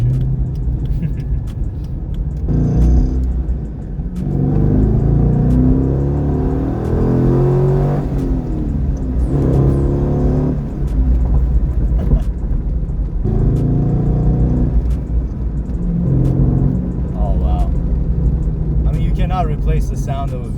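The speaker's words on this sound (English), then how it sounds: "this thing with a stock exhaust sounds glorious" A stock-exhaust V8 in a 2002 Chevy Corvette Z06 C5 accelerates through repeated rising revs with shift breaks, loud and close from inside the car, with a voice talking over it at times.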